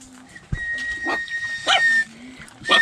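A dog at a rural home in the Ilocos province gives a few short whimpers and yips, close and fairly soft, with brief pauses between the calls.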